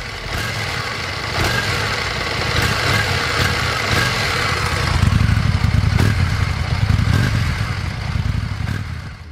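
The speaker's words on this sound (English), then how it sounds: "But that exhaust sound is," A 2025 Indian Scout motorcycle runs steadily close by, its exhaust giving a continuous low rumble that swells slightly in the second half, with no talk over it.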